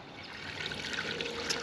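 Water trickles and splashes softly as it is poured into the housing of a non-self-priming pool pump to prime it, a faint, continuous pour that grows slightly fuller toward the end.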